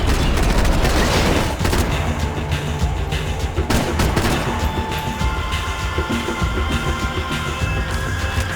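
Gunfire in the video game Max Payne 3, a dense, loud barrage of shots and impacts running continuously from start to finish with no talk over it.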